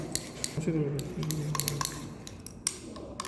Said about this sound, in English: Now it is stirring properly up to solidification.